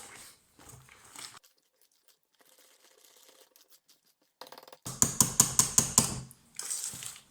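Muffin batter for chocolate banana muffins mixed in a bowl, heard as a run of rhythmic, fairly close scraping and clattering strokes following quieter handling sounds.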